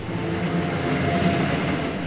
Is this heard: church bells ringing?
no